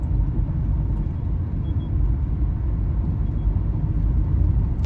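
Tata Nexon EV coasting down a long slope: a steady low road rumble and tyre noise continues evenly throughout, with no talking.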